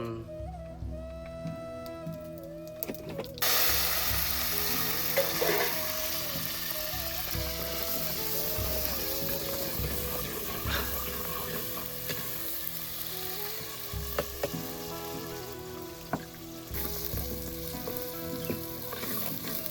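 Fish fries in hot oil over a wood stove, a loud steady sizzle that bursts up suddenly and keeps crackling and spitting for a long stretch, close by and alone.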